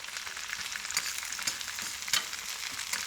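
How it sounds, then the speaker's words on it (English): Chili paste searing in a pan on a wood-fired kitchen stove gives a bright, crackling sizzle with quick popping spits scattered through it, close and continuous with no voices. "So now I just want to sear off this paste"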